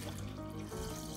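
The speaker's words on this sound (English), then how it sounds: "Pour the water, and the scale," Water pours steadily into a Vitamix V1200 blender container sitting on a scale, a continuous close splashing rush with no break and no talking.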